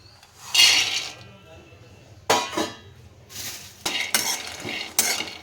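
Raw peanuts roast dry in a pan on a gas stove, stirred in uneven bursts of scraping and clinking against the metal, with quieter gaps between strokes.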